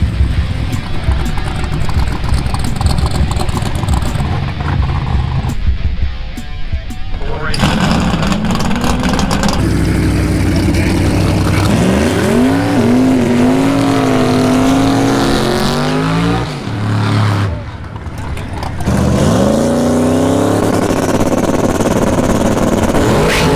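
Muscle cars rev at a drag racing starting line at Brainerd International Raceway, engines roaring loud and near with repeated rising revs and brief cut-offs, while people talk over them.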